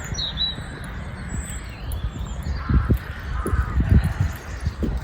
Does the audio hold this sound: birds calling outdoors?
yes